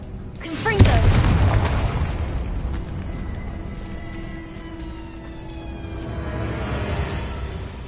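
A Confringo blast spell from a Harry Potter video game erupts as a single heavy boom, then rolls into a long rumbling decay with lingering crackle and a faint swelling tail.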